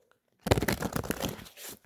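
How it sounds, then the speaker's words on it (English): Tarot cards riffle and rustle in a short burst of papery shuffling, close and fairly quiet. "One more shuffle."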